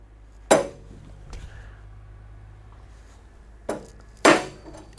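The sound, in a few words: rawhide mallet tapping a rod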